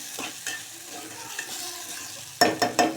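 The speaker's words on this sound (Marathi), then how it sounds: "भगरला पण थोडंसं मिक्स करून घ्यायचं फोडणीमध्ये" Washed bhagar (barnyard millet) is stirred into hot tempering in a pan. A continuous sizzle runs under repeated scraping stirs, which grow louder and sharper as a burst of spoon strokes near the end.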